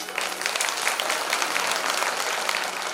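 An audience at a Shiv Mahapuran religious discourse in a village gathering claps together, a dense, steady patter of many hands for about three seconds with no pause.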